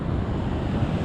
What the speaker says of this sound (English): Because when the wind picks up, so do the waves, right? Here comes some now, right?